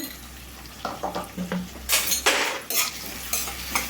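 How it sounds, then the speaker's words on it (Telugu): Chopped onions with salt fry in a pan for a radish curry, a faint sizzle under repeated clinks and scrapes of a spoon stirring against the metal, close and uneven in rhythm, with no speech. "ఉల్లిపాయ చాలా ఫాస్ట్గా అయితే వేగుతుందండి"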